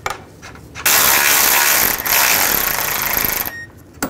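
A ratchet drives in a front lower control arm bolt on a 2004-08 Nissan Maxima, giving a loud, close, continuous whir of fast clicking for about three seconds, then stopping.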